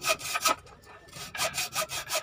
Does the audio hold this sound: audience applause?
no